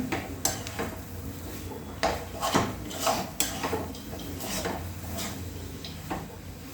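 A banana burfi mixture fried in ghee and stirred in a pan, with repeated scraping and clinking of a spoon against the metal at an uneven rhythm, close and fairly loud.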